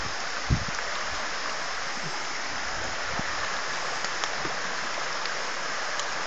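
A flooded creek pours across a field beside a goat pen with a steady, rushing wash of water, constant and fairly loud throughout, with a faint thump near the start and no talking.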